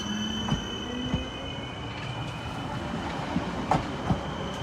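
A passenger train departing toward Zgierz rumbles steadily nearby with faint rail clatter and a high squealing tone over the rolling noise, no voices.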